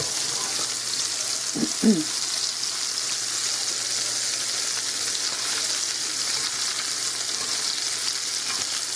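Green tomato wedges frying in a pan, a loud continuous close sizzle with a brief soft clatter early on.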